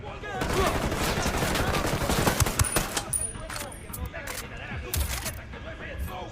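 Gunfire in the tactical shooter game Ghost Recon Wildlands during a rescue operation: sharp rapid bursts and single shots, dense at first and then sporadic, mixed with game voices and radio chatter.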